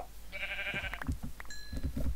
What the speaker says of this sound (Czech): Tady slyším ty ovce pořád.